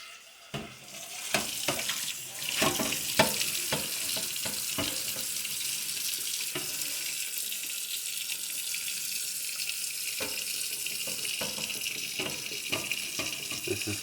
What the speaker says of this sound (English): clean this sucker and fill her with hot water.